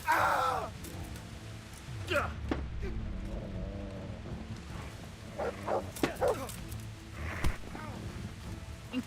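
A dog named Mutt barking in the medieval video game Kingdom Come Deliverance, with scattered barks and yips through a fight amid rain-like noise, while people talk over it.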